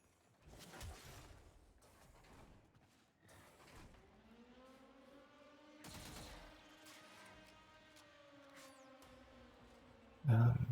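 Weapon fire in Warframe, a quiet run of sharp shots and whirring bursts scattered across a long stretch, ending in one louder burst.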